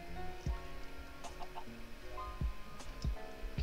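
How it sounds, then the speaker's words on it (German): Chickens in the video game Minecraft cluck in short, fairly quiet bursts scattered irregularly across a few seconds, with small pops between calls and no talk. "Okay, sind nur Hühner? Mann, ich will keine Hühner"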